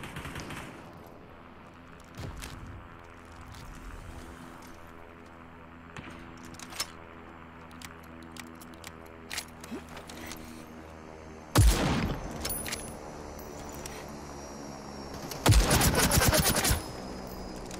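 Bursts of rapid rifle gunfire crackle intermittently over a low, droning soundscape in the battle royale game Super People, with two louder, harsher blasts standing out near the end.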